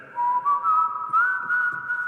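A person whistles a sustained, clear tune alone, the notes gliding smoothly and holding steady at close range, moderately loud with a soft airy breathiness.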